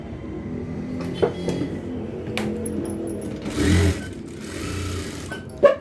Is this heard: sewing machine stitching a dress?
yes